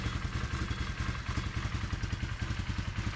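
A side-by-side UTV engine with a crank position sensor fault code idles steadily with a rapid, even chugging pulse and light mechanical clatter, close by.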